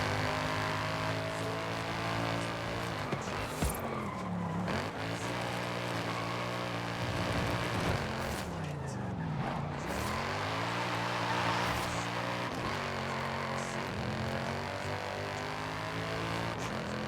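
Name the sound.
car engine roar in a video game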